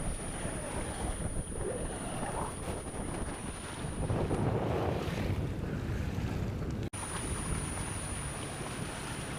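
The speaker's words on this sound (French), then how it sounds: "Et là on s'amuse à sortir sous voile du golfe." A sailboat under sail heads out of a gulf off Sardinia, with steady wind roaring across the microphone and waves washing against the hull, continuous and fairly loud with no voices.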